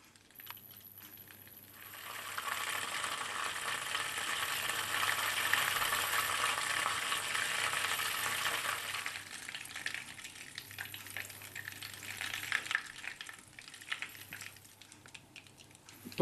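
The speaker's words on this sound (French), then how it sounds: "C'est-à-dire les petites bulles, le petit bouillon qu'on entend." Butter bubbles and crackles in a pan while browning for financiers, a soft continuous frying hiss that swells, then thins out as the butter quiets down.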